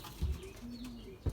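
Racing pigeons coo softly inside a largely empty loft, a low rolling call with faint rustling and a couple of thumps.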